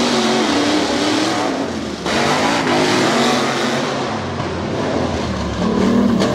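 Monster trucks roar through a Tough Trucks qualifying session in Bloomsburg, Pennsylvania, a loud, continuous engine drone that holds steady throughout with broadband noise, no talk over it.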